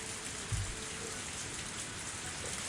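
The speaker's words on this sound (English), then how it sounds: "I went out into the rain again." Steady rain falls in a Higurashi visual novel scene, a continuous hiss of drops on surfaces with a brief low thump near the start, heard alone without voices.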